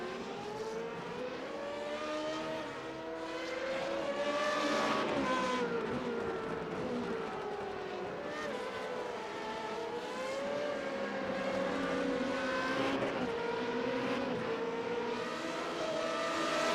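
Video-game F2 race car heading into the pits at the German Grand Prix, its engine whine holding steady and rising and falling in pitch over a continuous racing din, with no talk.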